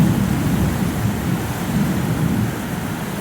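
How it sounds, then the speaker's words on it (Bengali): Heavy stormy rain pouring down outdoors in a village, a dense, continuous roar with gusty low rumble and no talking, holding loud and steady throughout. "সেই অঝরে নেমেছে বৃষ্টি, চারিদিকে পুরো অন্ধকার ছেয়ে গেছে"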